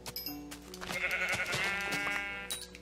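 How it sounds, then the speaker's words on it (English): Sheep bleating in the video game Minecraft, a wavering bleat lasting over a second at moderate loudness, with a few soft game noises around it and no talk. "Kenny, there's some sheep over here"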